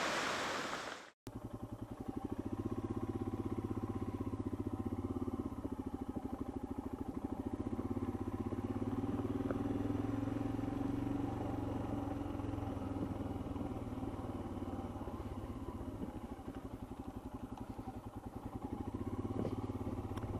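A Royal Enfield Himalayan 411cc single-cylinder motorcycle is ridden along, its steady engine drone and rumble running continuously under heavy wind buffeting after a brief knock at the start.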